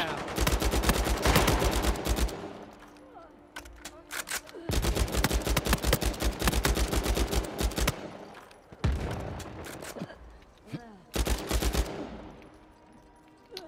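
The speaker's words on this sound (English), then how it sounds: "This guy's just blind firing that thing?" Rapid automatic gunfire from Uncharted 4 multiplayer, several dense bursts of shots separated by short quieter gaps, loud and close with some echoing tails.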